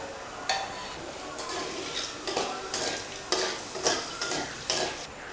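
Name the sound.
whole spices frying in mustard oil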